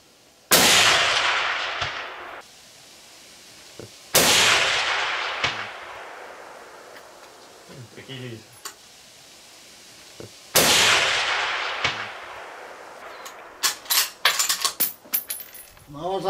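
Three loud hunting rifle shots are fired at a 10 cm target 300 m away, each a sharp crack followed by a long rolling echo, with quieter clatter and a few short bangs near the end.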